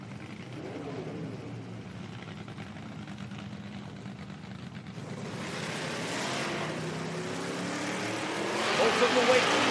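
A low, steady engine rumble from drag racing cars, a Chevelle and a Nova, idling at the starting line during a Pro Am elimination. The sound swells louder toward the end, with a commentator's voice running over it.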